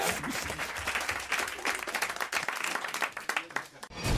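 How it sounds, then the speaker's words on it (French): Studio audience applause on a French comedy radio show, dense clapping that fills the clip at steady loudness and fades out near the end. "franchement, on vous applaudit, François."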